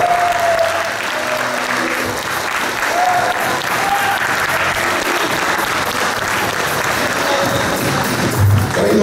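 Audience applause at a football club meeting as the team president receives a club scarf, a loud, steady wash of clapping that fills the whole stretch with a few faint voices and whistles mixed in.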